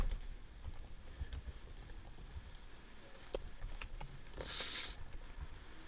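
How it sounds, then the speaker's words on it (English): Quiet, close clicking of a computer keyboard as someone types short bursts of keystrokes into a spreadsheet, with irregular taps and brief pauses between them. "I'm going to type in"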